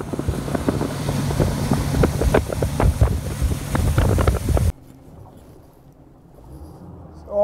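A bass-fishing boat idles on the Harris Chain of lakes, a steady low motor drone with wind buffeting for about five seconds before it cuts to quiet water sounds.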